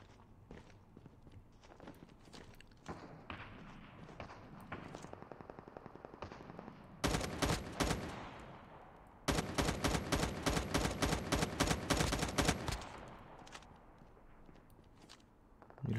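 Automatic gunfire in the mobile shooter game Call of Duty Mobile: loud, rapid bursts of shots in two long volleys after scattered footsteps and lighter shots, with no talk.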